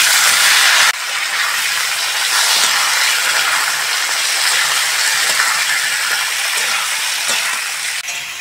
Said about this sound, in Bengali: 5 ফোড়ন নিয়েছি আর সর্ষে নিয়েছি, দিয়ে দেবো